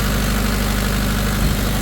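A Mahindra 30 kVA diesel generator engine runs under full load of about 70 amps, a loud, steady low drone with a constant rumble throughout and no voices.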